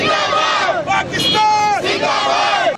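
A crowd of children dressed in army uniforms chants the slogan Pakistan Zindabad at a charity walk for thalassemia, loud and near, in repeated bursts of massed young voices.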